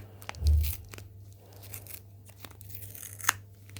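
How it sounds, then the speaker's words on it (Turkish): A Kuromi blind-bag package is torn open close up, with sharp plastic tearing and crinkling bursts, one louder rip near the start, then lighter crackles and a final snap. "Şu paketi açmakla başlayalım arkadaşlar."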